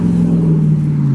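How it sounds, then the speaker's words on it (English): A car passes on a road close beside a house courtyard, a loud, steady low engine rumble and tire drone heard alone. "You can hear the car behind me."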